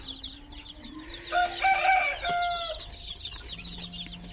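Weak, sick chicks peep in a coop with high, rapid chirps throughout, joined mid-clip by louder clucking from adult chickens nearby.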